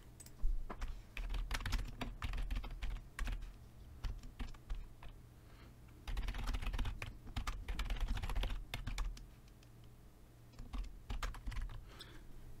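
Steady, fairly loud typing of MQL5 code on a computer keyboard, a continuous run of close keystrokes in uneven bursts over a low constant hum.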